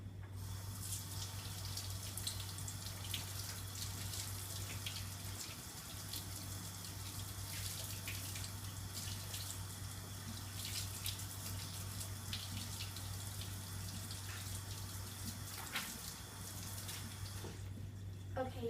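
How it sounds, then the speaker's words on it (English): Tap water runs into a sink to rinse corn, a steady splashing rush that goes on close and unbroken for the whole stretch under a low electrical hum, briefly interrupted near the end. "And I'm going to turn the water on."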